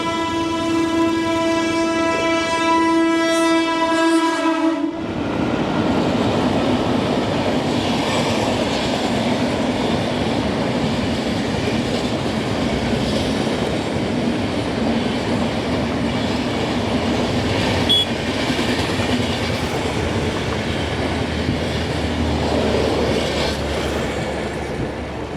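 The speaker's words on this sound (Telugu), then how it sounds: "వెనకట్లో అయితే ట్రైన్ వస్తుంది." A train horn blares loudly for about five seconds, then the train passes on the railway track with a long, loud, continuous rumble and clatter of wagons, heard nearby with no talk.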